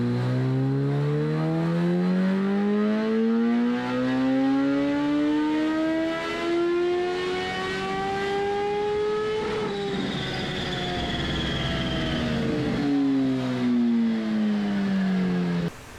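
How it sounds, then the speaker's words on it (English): Kawasaki H2SX motorcycle engine on a dyno, revving hard with rising harmonic tones across repeated climbs, a brief drop and another sharp rise, loud and continuous with no talk. "We're going to start by running it up on the dyno just to see where it's at the moment."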